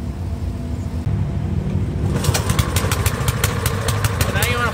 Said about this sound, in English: Now you're ready to either A, pull using the recoil, or B, you can plug in with an extension cord and push to start.